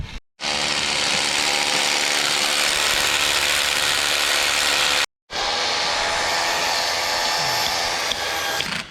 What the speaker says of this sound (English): so we can drill pins.